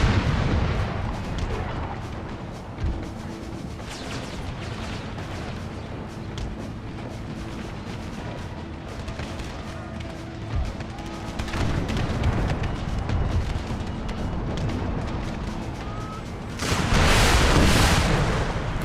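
Artillery thunders across a Gettysburg battle in a video game, a dense, continuous rumble of booming cannon fire with overlapping blasts that swells louder near the end.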